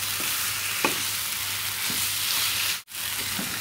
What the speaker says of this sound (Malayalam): വേപ്പിലിട്ട് കൊടുക്കണം, നന്നായി ഇളക്കി കൊടുക്കാം.